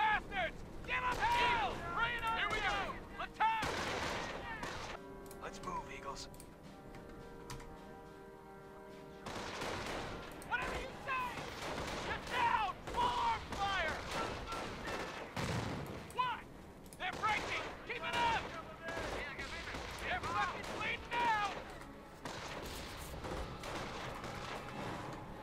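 Mortar blasts and gunfire from a Company of Heroes battle: sharp shots and heavy booms come in irregular bursts, some near and loud, others farther off, with voices now and then between the volleys.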